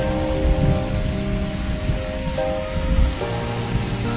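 Heavy pouring rain falling steadily as a dense, even hiss that stays loud and unbroken throughout, with a low rumble beneath and faint musical tones in the background.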